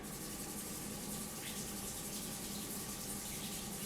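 A steady, faint rush of running tap water flows continuously as scungilli are rinsed, soft and unbroken throughout.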